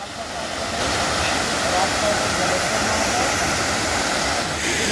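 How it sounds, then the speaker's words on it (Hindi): The Kendai waterfall near Korba drops about 100 feet, producing a continuous loud rushing roar of falling water that holds steady from start to finish. "लगभग 100 फीट की ऊंचाई से जो पानी है वह नीचे गिर रहा है"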